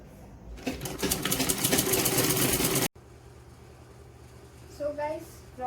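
A sewing machine stitching a baby frock runs in a loud, fast, steady whir for a few seconds and then stops abruptly. Afterward a low hum remains, and a person speaks briefly.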